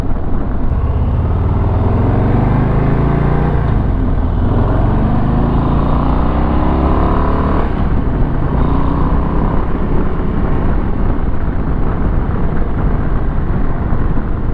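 A 2022 Harley-Davidson Low Rider ST motorcycle pulls away at half throttle, its loud, close exhaust note climbing steadily in pitch through the gears with a brief dip at a shift, holding a strong rumble throughout.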